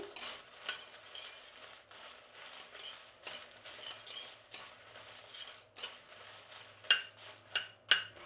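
Dry red chillies are stirred and fried in a pan, with repeated scraping clinks of a metal spoon against the pan in an uneven rhythm over a soft background sizzle.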